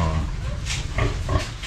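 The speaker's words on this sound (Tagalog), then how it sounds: "Tapos ito naman yung mga baboy ni Tatang" Pigs on a Philippine farm grunt and snort in a few short bursts close by, over low rumbling background noise.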